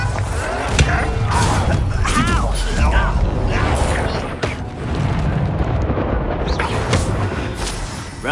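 Bombarda spell explosion in the video game Hogwarts Legacy, loud booming blasts and crashing rumble amid dense battle effects, with voices shouting over the chaos.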